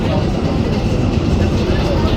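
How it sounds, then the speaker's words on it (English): Steady, loud rumble from inside a running New York City subway 7 train, a dense low roar with faint rattling that stays constant throughout, with no clear gaps. "This is inside the train."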